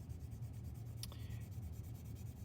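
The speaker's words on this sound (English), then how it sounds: "Actually, I'm going to use a darker pencil." A darker pencil shades across paper, giving a soft, steady scratching rub with a brief sharper stroke partway through, close and quiet over a low background hum.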